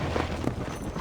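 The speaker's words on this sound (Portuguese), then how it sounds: "Calma, cavalo." Horse hooves clip-clopping in Red Dead Redemption, a quick run of muffled steps over a steady game background, with a few louder hoof strikes standing out.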